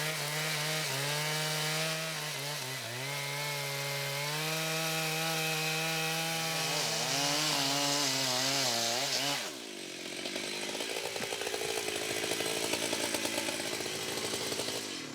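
A chainsaw fells a giant tree in a Congo forest, its engine droning loud and close with wavering pitch as the chain bites, then shifting to a rougher, choppier cutting note partway through.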